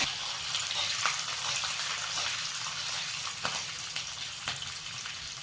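Hot oil tempering with sesame seeds, green chillies and curry leaves for khandvi crackles and sizzles steadily, with sharp pops scattered throughout and no talking.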